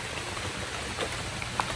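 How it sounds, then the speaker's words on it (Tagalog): Rain falls steadily outdoors in the Philippines, a dense even hiss of drops with a few sharper patters close by, heard alone with no talking. "Inabot po kami ng ulan."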